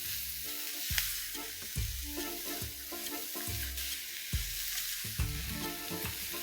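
Shredded chicken being tossed with spices in a pan sizzles steadily up close, punctuated by regular scraping strokes of a spatula roughly every second, with no voices.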